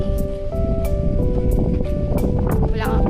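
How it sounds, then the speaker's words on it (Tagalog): Loud, steady wind roaring across the microphone at Al Raha Beach, Abu Dhabi, with scattered thumps and rustles and a person talking over it close by. "Ang lakas ngayon ng hangin."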